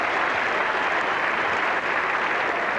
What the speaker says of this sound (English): And applause there for the 250 partnership.